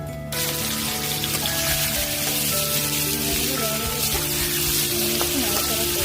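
Ridge gourd pieces hit hot oil seasoned with bay leaf and nigella seeds, setting off an abrupt, loud sizzle that stays steady and close, with light stirring.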